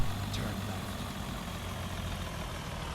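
A heavy truck engine idles in American Truck Simulator with the Creech Bomb sound pack, a steady low rumble that runs unbroken and moderately loud throughout.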